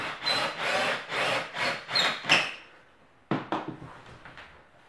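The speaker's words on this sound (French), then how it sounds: "je vais venir la mettre pile face au trou et je vais venir visser" A screwdriver turns a screw into wood with a rhythmic series of rasping twists, close and fairly loud, then a pause and a few shorter, sharper turns.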